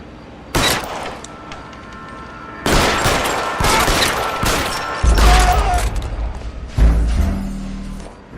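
Gunshots in the 1940s Los Angeles crime game L.A. Noire: loud, close bursts of rapid gunfire come in several separate volleys with short pauses between them, and heavy thumps land under the later bursts.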